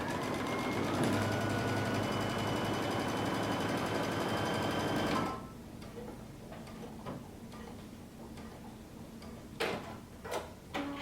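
A sewing machine stitches the center back seam of a cape made from Simplicity pattern 1016 at a 5/8 inch seam allowance, running steadily and close for about five seconds before stopping, followed by quiet clicks and handling sounds.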